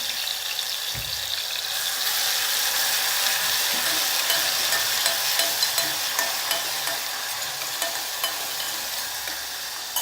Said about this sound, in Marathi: आता ही तेलामध्ये आपण ती मिरची फोडणीसाठी टाकलेली आहे।